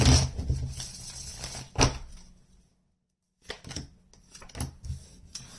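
Tarot cards being shuffled by hand, papery riffles and taps in short bursts separated by a moment of silence, close and crisp with no talking.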